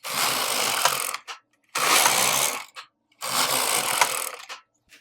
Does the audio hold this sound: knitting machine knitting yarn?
yes